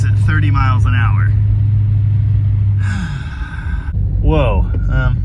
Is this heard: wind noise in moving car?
yes